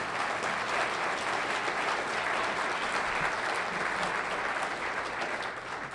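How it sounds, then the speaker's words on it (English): Sustained applause from a forum audience at a talk with Senator Ron Wyden, a steady dense wash of clapping holding at even strength for the whole stretch and easing slightly at the very end. "Let's give him a big round of applause."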